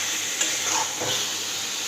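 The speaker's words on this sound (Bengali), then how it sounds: "দেখুন আলুটা দিয়ে দিলাম, এবার ক্যাপসিকাম কুচিগুলোও দিয়ে দিলাম, দিয়ে এবার একটু কষিয়ে" Potatoes and chopped capsicum fry in hot oil, a steady close sizzle and hiss with faint stirring scrapes, continuous throughout.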